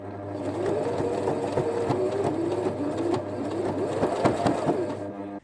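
A sewing machine runs a quarter-inch seam on a fabric glasses case, a fast, even mechanical whirr with rhythmic stitching ticks that holds steady for several seconds up close before cutting off.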